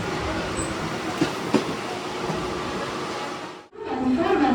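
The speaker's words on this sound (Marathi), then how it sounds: "डोंबिवली स्टेशन का आम्ही येऊन पोचलो आणि आता ट्रेन इली आहे" A train arriving at Dombivli station rumbles steadily with a broad rolling roar and faint wheel clatter, loud and close, then briefly drops away before the noise resumes.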